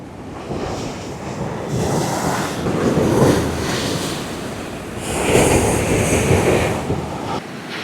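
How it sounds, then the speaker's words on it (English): Wind gusts across open grassland outdoors, swelling and fading in two broad rushing surges, loud and close with buffeting against the microphone and no voices. "it's just the wind and this grass doing this strange movements"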